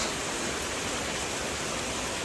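Heavy rain that has been falling since morning pours down over a waterlogged farm field beside a house, a dense, steady hiss with no breaks and no voices over it.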